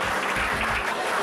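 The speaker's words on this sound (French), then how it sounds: "C'est sous de longs applaudissements qu'ils montent eux aussi sur le podium." Sustained applause from a crowd at an outdoor prize-giving ceremony in the French village of Les Estables, a steady wash of clapping throughout with no speech.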